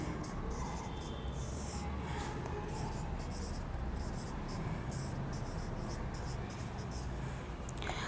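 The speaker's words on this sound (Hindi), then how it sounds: "अब मैं यहाँ पे लिख दूंगी" Marker or chalk writing on a board during a Hindi grammar lesson, a steady scratchy scrawl running throughout, fairly faint under a constant room hiss.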